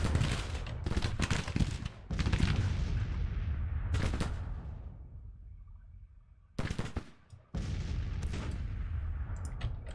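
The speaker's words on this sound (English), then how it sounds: "12-pounder howitzers." Booming 12-pounder howitzer artillery fires in the Civil War strategy game Grand Tactician, loud overlapping blasts with rumbling tails that die away, a brief lull, then a fresh cluster of heavy shots.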